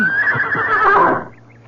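A horse whinnies loudly and close in a radio drama, a single high, wavering neigh lasting about a second before fading into quiet.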